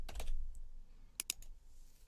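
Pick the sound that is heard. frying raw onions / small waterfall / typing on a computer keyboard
typing on a computer keyboard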